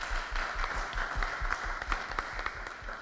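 An audience at an evangelical talk claps together in a steady, moderately loud round of applause that lasts throughout, with no voices over it.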